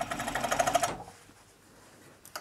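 A domestic overlocker sews a shoulder seam joined to a neckband, running in a fast steady mechanical whir for under a second, then stopping abruptly into quiet room tone with a faint click at the end.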